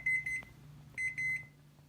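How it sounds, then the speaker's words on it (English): A digital kitchen timer being set for cooking quinoa gives short, high electronic beeps in two quick clusters of about four each, close and clear against a quiet kitchen. "we're going to set the timer for 11 minutes."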